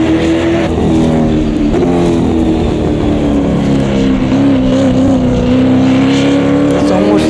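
A race car's Super V8 exhaust in Automobilista 2 drones loudly at a steady pitch, with voices talking over the engine.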